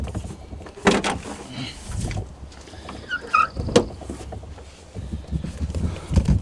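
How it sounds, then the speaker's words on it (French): Rear doors of a converted van-style truck are unlatched and swung open, with a few sharp metallic clunks and rattles up close, separated by shuffling and handling noise. "Allez, ouvrons ces portes"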